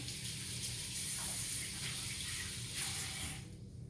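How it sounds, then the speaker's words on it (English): Tap water gushing steadily into a sink while hands are rinsed beneath it, close and continuous with faint splashing shifts, cutting off near the end. "let me get my hands a quick wash again"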